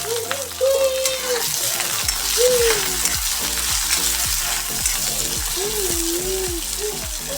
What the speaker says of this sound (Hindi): अब डालूँगी प्याज, जो कि धोकर रखी हूँ पहले से।